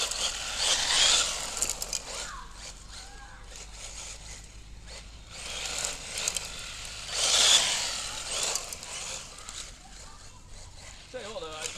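A customised Tamiya Hotshot II RC car with Blockhead Motors parts runs in the dirt, its motor whining and rising in passes near and far, with a person talking over it.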